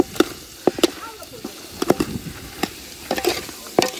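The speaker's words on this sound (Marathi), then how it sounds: "आपलं असं मस्तपैकी हलवून घेऊ याला" Large batches of mutton frying in oil in a big pot are stirred at an outdoor festival feast, with repeated scraping strokes and bursts of sizzle in an irregular rhythm, close and moderately loud.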